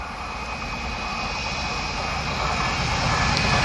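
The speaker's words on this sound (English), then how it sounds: "our first freight of the day looks like a Class 66" A Class 66 diesel freight locomotive passes by, its steady heavy rumble and broad roar building gradually and staying loud throughout.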